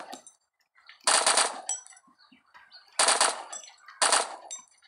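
Automatic gunfire in the mobile shooter LifeAfter comes in three sharp, loud bursts of rapid shots, separated by short quiet gaps and faint game sounds.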